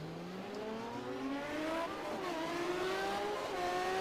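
An Aston Martin GT1 race car at Silverstone rejoins after a spin, its engine droning and rising steadily in pitch with gear changes, loud and continuous with no talk over it.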